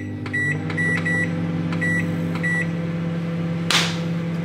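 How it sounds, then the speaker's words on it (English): A microwave oven heating a Mediterranean veg meal for three minutes hums steadily at close range, with a series of short electronic beeps near the start and a brief bright clunk toward the end. "So that goes in the microwave for 3 minutes."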